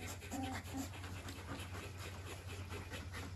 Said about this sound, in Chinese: 哟，听小狗的声音。